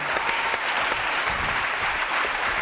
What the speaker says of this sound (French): Merci et applaudissements.